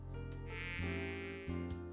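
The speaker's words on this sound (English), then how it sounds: "It's a micro machine modelled after the mosquito." A mosquito-shaped micro machine in a video game gives off a continuous high buzzing whine over layered tonal game music, steady and close throughout.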